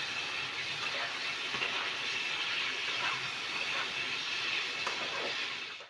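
Raw green tomatoes fry in hot oil while being stirred, giving a steady, dense hiss and sizzle that holds evenly throughout, with faint scraping ticks from the stirring, no voices.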